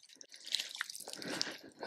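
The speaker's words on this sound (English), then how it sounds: "Let's go ahead and take it out, rinse it off." Wet dripping and squishy splashes as mud is rinsed off a translucent AR15 magazine with reinforced feed lips, close and fairly quiet, with scattered drops and sloshing over about two seconds and no talk.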